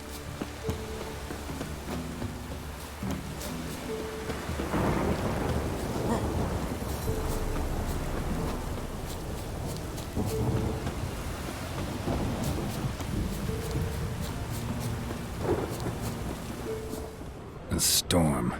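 Thunderstorm with steady rain in The Witcher 3, a broad continuous wash of rainfall with low rumbling thunder swelling throughout, layered under game music and a brief spoken line.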